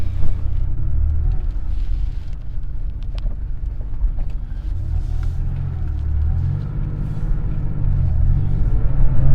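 A Porsche 911 engine idles after a cold start in a Queens, New York parking area: a steady, loud, deep rumble that holds throughout, swelling slightly toward the end with no talking.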